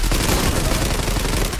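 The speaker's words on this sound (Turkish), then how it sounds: "M4 aldım. 3 saniye tarasın." An M4 rifle from the online shooter Zula sprays a loud, continuous automatic burst that runs the full length of the short stretch without a break.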